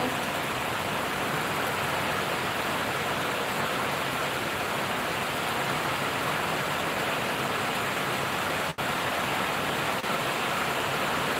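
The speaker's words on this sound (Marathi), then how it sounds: "इथे पाऊस चालू आहे" Steady, dense hiss of rain falling in Ratnagiri, constant and fairly loud throughout, with no voices.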